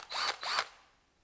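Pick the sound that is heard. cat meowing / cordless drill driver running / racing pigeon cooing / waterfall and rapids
cordless drill driver running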